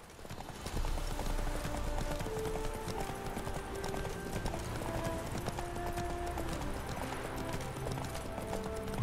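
Horses gallop in a race in The Witcher 3: Wild Hunt, a rapid, continuous clip-clop of hooves, fairly loud, with a faint game soundtrack underneath.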